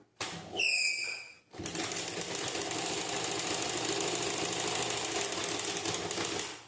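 A sewing machine stitches the front of a blouse, running as a fast, steady mechanical rattle close by after a brief high-pitched squeal at the start.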